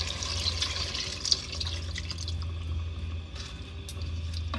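Tamarind water trickles and splashes into a cooking pot for a brinjal and mochai tamarind kuzhambu, a soft, steady liquid pour with small drips, faint and close, with no talking.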